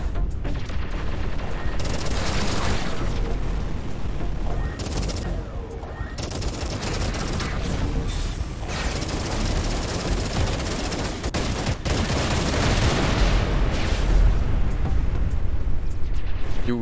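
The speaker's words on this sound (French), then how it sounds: "Ou Jean-Mich qui me tire dessus là" Enemy ships shooting at the player's ship in Everspace 2, dense sustained laser and cannon fire with booming impacts and rumbling explosions, loud and continuous for the whole stretch.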